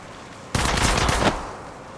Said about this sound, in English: They're shooting at me. Another squad is attacking us. Taking fire.